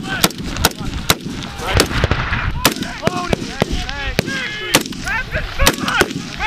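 Soldiers' rifle gunfire during a combined arms live fire exercise in Poland, with sharp gunshots cracking at an irregular pace, some in quick pairs, while people shout and talk between them.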